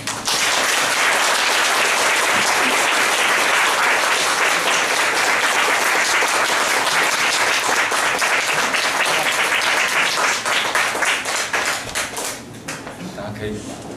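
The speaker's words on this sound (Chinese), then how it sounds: "再给他热烈掌声啊！" An audience at a lecture gives a long, loud round of warm applause for a guest speaker. The dense clapping holds steady for many seconds before thinning and fading out at the end, with voices faintly beneath it.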